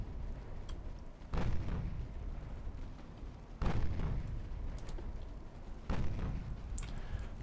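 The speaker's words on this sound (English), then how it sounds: "All guns to bear. Together with my heavy cruisers." Heavy cruisers' naval guns fire in the Ultimate Admiral Dreadnoughts naval warfare game, three deep booming salvos a couple of seconds apart over a steady rumbling background.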